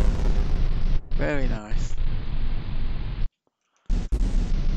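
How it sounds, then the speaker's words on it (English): Explosions in a retro remake video game boom in punchy bursts between stretches of game noise, with a short spoken comment over the action and a brief silent gap. "I like the explosions."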